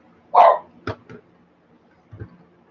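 A dog lets out one loud close bark followed by a couple of shorter, softer yips and a faint later woof, in a quiet room.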